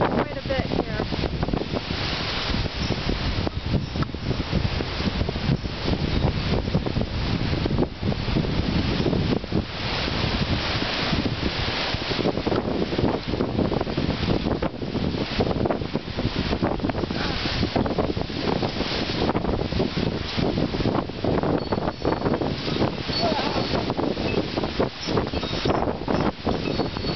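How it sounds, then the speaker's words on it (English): Strong gusting wind in a windstorm in Boron batters the microphone with loud, continuous roaring buffeting that surges and dips throughout, close and harsh with no clear talk. "the wind is really gusting"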